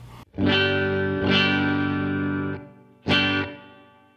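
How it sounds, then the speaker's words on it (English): Clean electric guitar strums ring out in three chords through a Donner Twin Series Tap Delay pedal, sustained with light compression and a touch of reverb tail, no talking. "the clean sound just sounds like this. It's just got a little compression and reverb on it."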